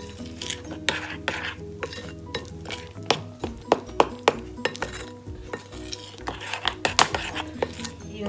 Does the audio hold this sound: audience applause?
no